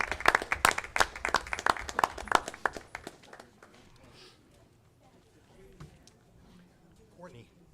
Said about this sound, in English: one more big round of applause for Vicki and Casey